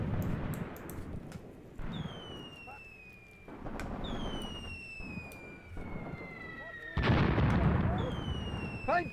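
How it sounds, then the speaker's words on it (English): Incoming Soviet artillery rounds hit a trench in the war game Graviteam Tactics: several long, descending whistles of shells in flight, each followed by heavy booming blasts, the loudest and closest impact near the end. "Some of those rounds from the Soviets coming in very hot, definitely killing our men in this trench."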